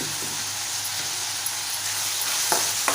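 Tomatoes are stirred and sautéed in a pan while cooking prawn rice, giving a steady close sizzle with a few soft scraping clicks of the spoon near the end.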